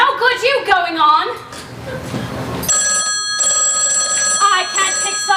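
An old-fashioned telephone bell rings in a theatre stage farce, a sustained bright metallic trill entering midway and continuing steadily over laughter and stage voices.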